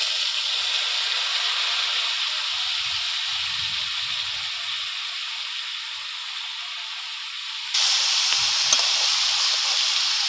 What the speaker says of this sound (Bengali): এবার আমি মেখে রাখা শাপলা চিংড়ি মাছটা এবার কড়াইয়ের মধ্যে দিয়ে দেবো